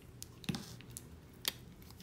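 Two faint, sharp snips as a piece of round coil wire for an Innokin Ares RTA vape build is cut, quiet and close in an otherwise still room.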